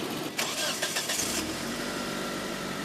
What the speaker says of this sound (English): then try starting the dead vehicle.